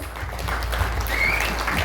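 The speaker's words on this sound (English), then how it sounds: "Let's give them a round of applause" Applause for a Kirtan team seated at a tent campaign gathering, a steady wash of clapping from the crowd over low rumble, filling the short moment without a break.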